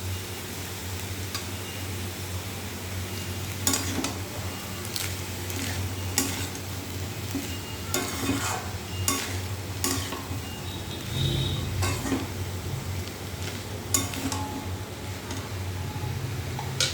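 Soaked raw chickpeas with fried potatoes sizzling in a frying pan, a steady hiss broken by repeated scraping stirs and clinks of a spoon against the pan.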